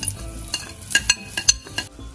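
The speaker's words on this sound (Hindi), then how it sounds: "तो अब ऑयल गर्म हो चुका है, इसमें हम प्याज शामिल करके इसको ब्राउन करते हैं।" Onions fry in hot oil as a spoon stirs them in a pan, light sizzling broken by repeated sharp metallic scrapes and clinks at an uneven rhythm, close and fairly loud.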